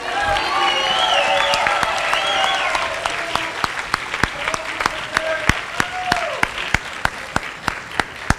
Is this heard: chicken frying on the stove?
no